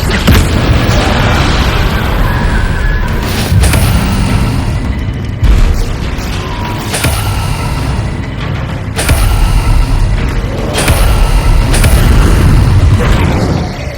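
Incendio and Confringo spell blasts in Hogwarts Legacy sound as a dense, loud run of booming bursts and crackling impacts, repeating every second or two over constant roaring game noise.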